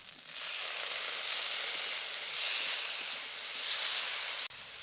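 Chopped ripe tomatoes sizzle in a wok over hot oil with fried garlic, ginger and onion, a steady loud hiss that runs without pause and drops off abruptly near the end.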